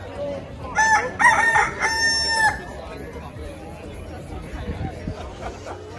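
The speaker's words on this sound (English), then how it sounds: "Look at all these chickens." Roosters crow several times in quick succession at a track and field championship meet, loud and close, with crowd chatter and outdoor babble underneath and continuing after the crowing stops.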